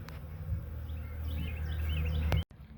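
Honeybees swarm around a newly installed hive outdoors, a steady, close buzzing drone with individual bees flitting past, continuing for a couple of seconds before cutting off abruptly.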